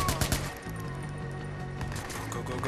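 Gunfire in the video game Watch Dogs, rapid repeated shots in quick bursts, loudest at the start, then continuing over a steady background of game sound.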